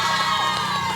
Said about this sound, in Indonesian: coba mana tepuk tangannya untuk kelas 9G?